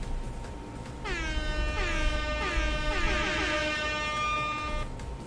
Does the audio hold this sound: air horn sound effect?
yes